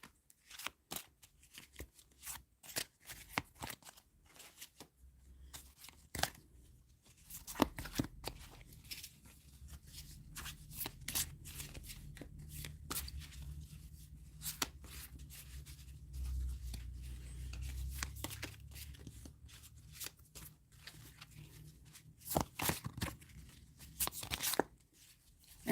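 A new, slippery deck of tarot cards is shuffled by hand in repeated bursts of riffling and sliding card noise, close and fairly soft, with no one talking.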